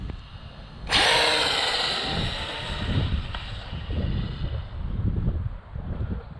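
A Traxxas Slash RC car launches on a drag racing run with an abrupt burst of high, whining electric motor noise that slowly fades over several seconds, with steady wind rush underneath and no talking.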